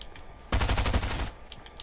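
Fortnite gunfire rattles out in a short rapid burst of about ten shots lasting under a second, loud and close against a quiet game background.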